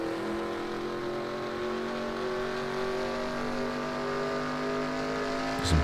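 Race cars in NASCAR Racing 2003 at Talladega, a steady high engine drone of several cars at speed, with a sharp burst of noise right at the end and no speech.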